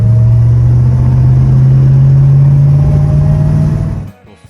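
A 1970 Plymouth Roadrunner 440 6-pack muscle car engine holds a loud, steady low rumble whose pitch creeps slightly upward before cutting off abruptly near the end, with no voices.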